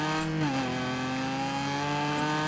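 A V6 car engine in the racing video game Gravel holds a steady, loud drone, its pitch dipping slightly after a brief gear change before settling into an even cruise with no talk over it.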